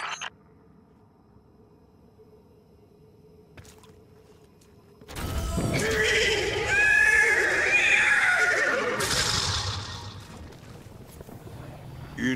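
A horse neighs loudly in the Destiny 2 video game, a drawn-out whinny rising over a quiet background hum, with faint water-like ambience around it before it fades out.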